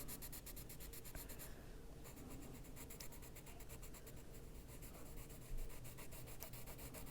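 Coloured pencil shading the snowy corners of a Christmas colouring page, the side of the lead rubbed across paper in a steady, soft, continuous scratchy hiss, close and alone with no talk.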